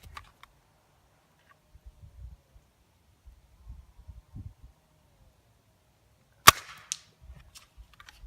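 Steel shotgun fired once outdoors in woods, a single sharp crack standing out against near silence, with faint handling clicks and rustles before and after.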